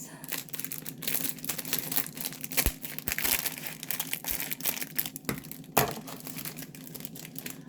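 Plastic food packaging being crinkled and wrestled open in a home kitchen, a steady rustling and crackling with a few sharper snaps, close and fairly loud, with no one speaking over it.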